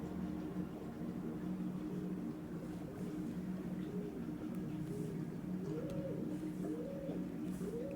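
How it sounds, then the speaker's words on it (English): Owls hoot in a repeating series of soft, rising-and-falling calls over steady background hiss, growing somewhat stronger toward the end. "Oh my god, it's the owls again."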